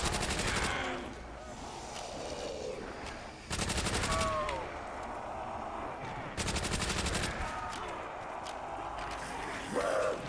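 A Thompson submachine gun fires in Call of Duty: World at War zombies on the Verrückt map, with three loud, rapid bursts over steady game noise and a voice talking between them.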